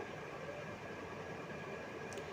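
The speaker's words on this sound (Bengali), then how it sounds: "ট্রেনে এসে গেছে আমরা ট্রেনে উঠে পড়ব" A train pulls into a station, giving a steady, continuous rumble and hum of rail cars at moderate volume with no clear voices.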